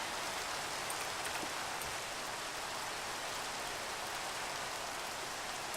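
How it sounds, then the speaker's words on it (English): Steady rain falling in the video game Minecraft SkyFactory 3, an even hiss of rainfall that holds at the same level throughout with no talk over it. "And it's raining, of course."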